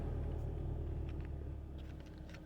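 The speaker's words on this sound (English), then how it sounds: "the car is loud" A loud car passes outside, a deep steady engine rumble that slowly fades, with faint scattered higher noises and no talking.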